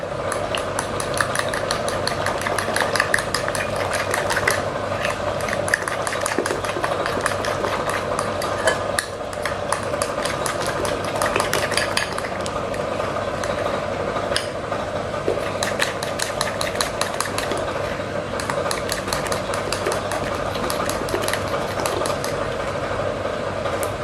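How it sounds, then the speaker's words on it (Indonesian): Three eggs are whisked with grated coconut in a bowl for a crispy snack, the utensil clicking and tapping rapidly and continuously against the bowl, close and fairly loud throughout. "campurkan aja 3 butir telurnya ke atas kelapanya seperti ini. Ini kita kocok lepas terlebih dahulu."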